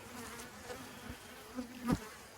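Honey bees buzz around a busy hive near canola fields, a faint steady hum with one bee passing close and loud for a brief moment near the end.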